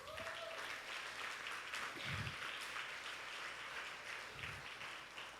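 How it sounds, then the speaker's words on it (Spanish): A church congregation applauds during a sermon, a moderate, continuous wash of clapping from a large room, fairly soft and distant, with a few low thumps underneath. "Denle un aplauso al Señor"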